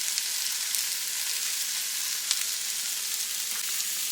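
Water poured into a pan for a budget boxed-potato dish brings a steady, close sizzle and bubbling hiss that stays even throughout, with no talking.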